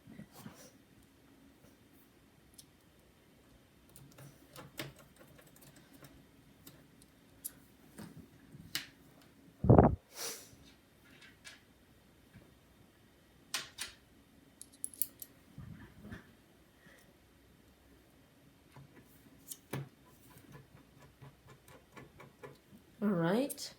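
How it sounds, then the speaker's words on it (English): Small screws being driven back into the battery area of a 2009 MacBook with a little screwdriver: sparse, quiet clicks and faint scrapes close by over a low hum, with one sharper click midway and a brief louder rustle at the end. "So now we can reinstall the battery screws."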